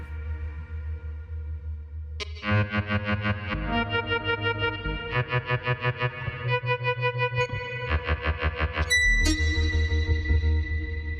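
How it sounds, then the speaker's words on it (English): Granular synthesized tones stutter in rapid, pulsing bursts of bright pitched grains. They shift between clusters and are washed in reverb, with a low sustained drone underneath and no voices. "And we hear like the whole thing with the reverb now."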